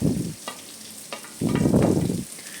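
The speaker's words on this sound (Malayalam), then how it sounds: "അതും ചേർത്ത് കൊടുത്ത് നമുക്ക് നന്നായിട്ടൊന്ന് മൂപ്പിച്ചെടുക്കണം" Sliced onions go into a pan of hot oil for okra thoran, giving bursts of loud close sizzling and stirring with a few brief clatters between them and no talking.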